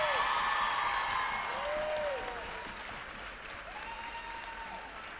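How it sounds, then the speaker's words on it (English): Crowd applause and light cheering in a gym for the tournament MVP at a girls' district championship basketball game, steady clapping that eases slightly, with sneaker squeaks audible over it. "Let's give a big round of applause"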